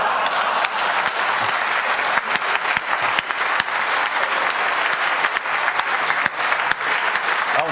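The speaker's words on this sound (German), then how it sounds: "als ihr geklatscht habt" An audience at a hardware disk-encryption security talk at the 29C3 conference applauds steadily, a dense, continuous patter of many hands clapping throughout.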